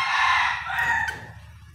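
A rooster crows loudly nearby, one long drawn-out call with harmonic tones, followed by quieter bird sounds fading out.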